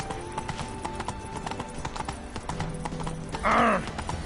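Horse hooves clip-clop in a steady trotting rhythm from Roach, a horse in a video game, with a short neigh near the end, under faint background ambience.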